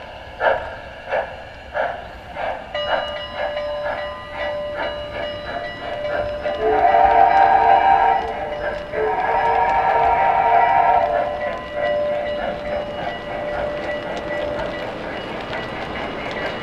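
A model railroad locomotive accelerates slowly, rolling along with rhythmic clicking over rail joints, joined midway by a sustained whistle-like tone, steady and moderately close.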